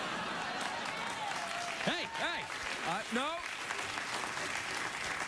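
Studio audience at a late-night TV talk show applauds with a dense, steady wash of clapping that runs the whole time, while someone talks loudly over it with animated, pitch-swooping speech.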